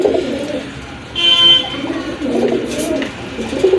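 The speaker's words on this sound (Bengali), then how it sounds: "এই যে দেখেন কতটা অ্যাক্টিভ কবুতরগুলো" Pigeons coo in soft, low rolling calls close by, a couple of bouts separated by a short sharp tone.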